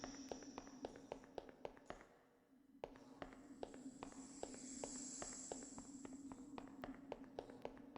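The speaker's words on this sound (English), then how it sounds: "You can even hear the footsteps increasing." Rapid footsteps while strafe running in System Shock 2, a steady quick series of sharp taps over a low background hum with one brief dip midway.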